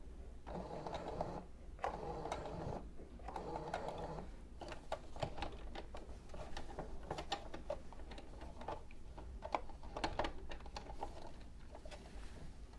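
A sewing machine stitches across the end of a fabric strip for a baby pillowcase dress, a quiet rapid mechanical chatter running in short bursts with brief pauses, faint and close.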